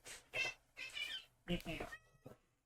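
A cat meows several times in quick succession, close by, with short breathy calls in a quiet room.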